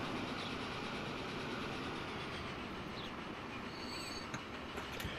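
Trains coming and going at a busy rail hub in the video game Transport Fever 2, a steady rolling rumble with faint wheel squeal and clicks throughout, no voices.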